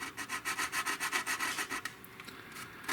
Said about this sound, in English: See if I can just get away with sanding it down a little bit.